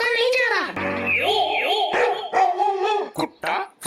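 A dog gives a burst of high yips and whimpering barks close by, with people talking loudly around it.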